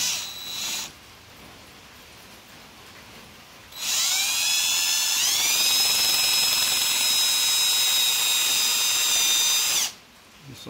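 A power drill whines at high pitch, rising as it bites into the metal identification plate of a 1950 Farmall Cub tractor, running steadily for several seconds before cutting off; a brief burst of drilling comes earlier.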